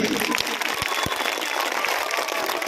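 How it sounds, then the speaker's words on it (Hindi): An audience claps for children who took part in a Republic Day competition, a broad wash of applause with a few sharper claps standing out and some voices mixed in. "आप सारे बच्चों के लिए हाथ उठा के एक जोरदार ताली होनी चाहिए"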